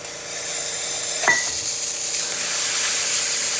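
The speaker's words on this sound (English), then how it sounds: "here's some steam" A La Pavoni espresso machine steam wand releases a loud, steady, continuous hiss of steam after a full tune-up, running alone with a brief tonal squeal near the start.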